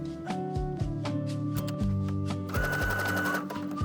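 Sewing machine stitching a front slit seam in a bias cut skirt, a steady close mechanical whirr with rhythmic needle thumps, then a brief busier rattling burst toward the end.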